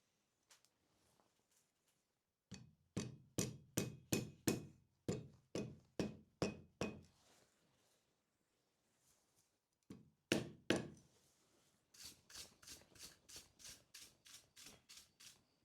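A copper scoop handle is hammered over an anvil horn with a piece of wood, giving sharp, evenly spaced knocking blows in three bursts separated by pauses, close and loud.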